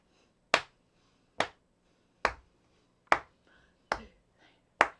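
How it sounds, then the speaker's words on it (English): Rhythmic hand claps on beats 2 and 4 during a choir session: six crisp, close claps spaced evenly about a second apart, each sharp and short, with near silence between them. "we're doing the claps on 2 and 4"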